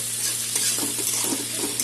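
Chopped ginger frying in a pan with carrots, beans and green chillies for Bengali fried rice, a close, steady sizzle with soft scraping stirs of a spatula.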